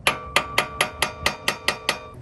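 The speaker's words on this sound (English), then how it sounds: "I'm just going to tap on it a little bit in a couple spots to help release it from the hub." A hammer taps nine times at an even pace on a wheel hub flange during a front brake job on a Toyota 100 Series Land Cruiser, each strike a sharp, close metallic ring with no voices.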